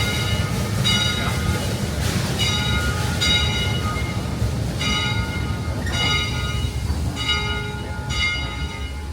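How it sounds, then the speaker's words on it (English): An old steam locomotive on the redwood forest railroad pulls into the Santa Cruz depot, its bell clanging in a steady repeated rhythm over a continuous low rumble of rolling cars. "We do have to line up our old steam locomotive perfectly with the water tower."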